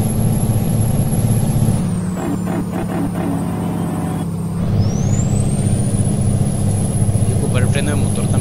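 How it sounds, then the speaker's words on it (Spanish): Engine braking of a Freightliner F65 school bus in a driving video game, a steady low engine drone that shifts pitch partway through, with a high whine rising near the end and someone talking over it. "freno de motor también para disminuir un poquito la velocidad"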